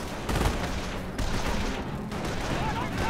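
Machine gun fire in the video game Company of Heroes: dense, sustained bursts of rattling automatic gunfire mixed with other battle shots, loud and continuous for the whole stretch.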